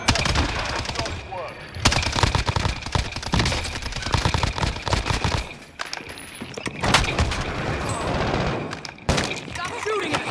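Rapid automatic gunfire and scattered shots from Call of Duty: Modern Warfare in Plunder mode, in dense loud bursts nearly throughout, under game voice chatter.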